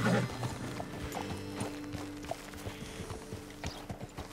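Horse hooves clip-clopping in Red Dead Redemption 2, a steady walking rhythm of several horses on a road, moderately faint over a low game ambience with a soft tonal hum.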